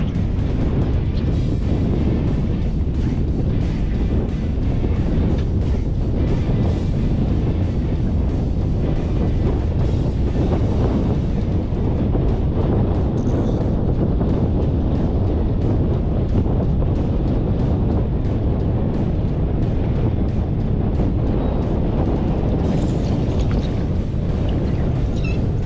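Strong wind blowing hard across the side of a dam by weed beds, a loud continuous roar with buffeting gusts against the microphone and no pause throughout.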